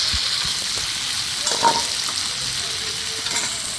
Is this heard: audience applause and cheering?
no